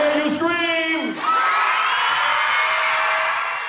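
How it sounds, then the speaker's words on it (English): A school crowd of children screams and cheers loudly after being called on to make noise, a dense sustained roar of shrieks and whoops that swells and holds steady, close and energetic. "Let me hear you scream!"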